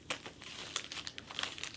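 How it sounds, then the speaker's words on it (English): Plastic wrapper of a Disney Lorcana Shimmering Skies booster pack crinkles up close in a few quick, quiet rustling bursts. "No Kronk on the front of the booster pack"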